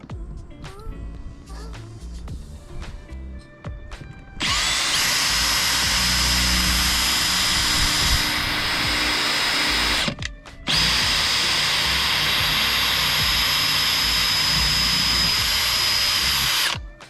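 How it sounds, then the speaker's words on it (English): Power drill running in reverse while working on an anchor locker hinge of a Yamaha jet boat, first some light handling clicks, then a loud, steady whine in two long runs split by a brief pause. "So now we'll drill this side out"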